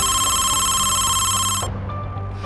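A mobile phone ringtone sounds loudly and steadily up close, made of sustained bright electronic tones over a low hum, then cuts off partway through.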